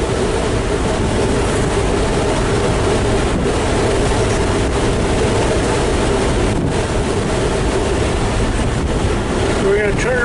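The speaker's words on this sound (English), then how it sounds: "The engine is super smooth." A restored, completely stock 1951 Ford F1 pickup truck engine runs while driving down the road, a steady low drone largely buried under heavy wind rush throughout.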